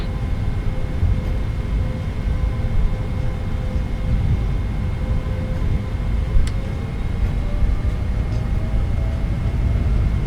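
The engines of a PMDG Boeing 777 at takeoff thrust in Microsoft Flight Simulator give a loud, continuous roar with steady whining tones, unbroken from start to finish and with no voices.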